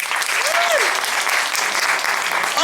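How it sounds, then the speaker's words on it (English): An audience applauds on request, a dense, steady burst of clapping that fills the whole stretch without a break, with faint voices mixed in. "Applaud if you're on Insta."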